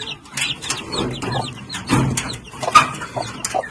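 Chickens clucking in a yard: several overlapping clucks and bird calls close by, irregular and fairly loud, with no speech heard.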